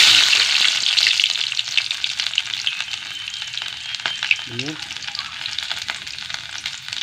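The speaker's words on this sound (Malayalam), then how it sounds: "ഇനി മൂന്നാല് ഇല്ലി വെളുത്തുള്ളി ഇട്ട് കേട്ടോ" Three or four garlic cloves dropped into hot oil with mustard seeds sizzle loudly and constantly close up, with light stirring clicks and a brief faint voice partway through.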